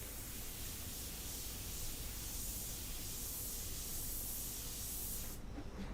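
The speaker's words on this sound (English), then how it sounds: "Let the airbrush do it." A steady, close airbrush hiss sprays paint continuously at an even level, then cuts off abruptly near the end.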